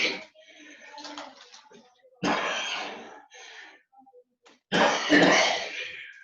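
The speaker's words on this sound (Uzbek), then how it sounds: "Kim yo'talyapti?" Several sharp coughing and throat-clearing bursts in a quiet room, three main loud fits separated by softer breathy sounds, close to the listener.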